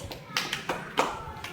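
A handful of scattered, uneven claps from children in a second-grade Telugu classroom, sounding light and sparse rather than a full round of applause.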